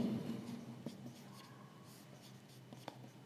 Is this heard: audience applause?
no